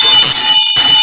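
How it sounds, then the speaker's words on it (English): A bright, sustained ringing bell sound effect plays loud and alone, a shimmering metallic tone with a brief dip before continuing. "Thanks, Alison, for sending back the bell"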